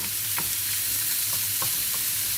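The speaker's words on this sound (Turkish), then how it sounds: "Güzelce kıymamızı suyunu çekinceye kadar kavuracağım." Ground meat sizzles steadily in a hot pan, with occasional scraping stirs over the constant crackling hiss.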